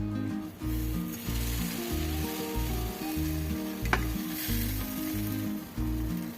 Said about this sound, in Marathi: दुसऱ्या साईडलाही भाजून घेऊ